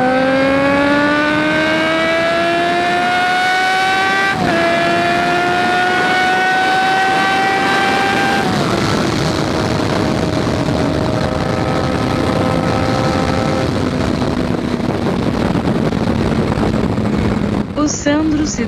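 A Suzuki Bandit 650S motorcycle rides a mountain road, its engine loud and close, climbing and dropping in pitch through gear changes and throttle shifts, with wind roar throughout.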